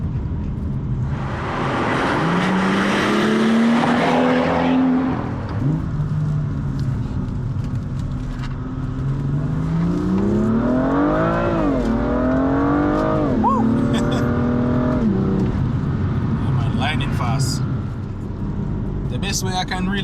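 A BMW M2 pulls hard to overtake a truck on the road, its engine revving up through rising then falling tones with a brief shift, loud and close inside the cabin while someone talks over it.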